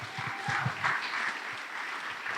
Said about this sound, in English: Give it up for Braden.